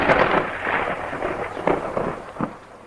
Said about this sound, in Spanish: ¿Qué es eso? Tormenta.